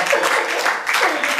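Audience applause, a dense burst of continuous clapping heard up close that fills the whole short moment without pause.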